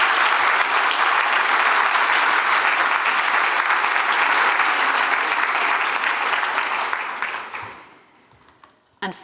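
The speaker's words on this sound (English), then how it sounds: "give him a big clap anyway" An awards ceremony audience claps loudly and densely for several seconds before the applause tapers off and fades to near silence, with a final faint clap at the end.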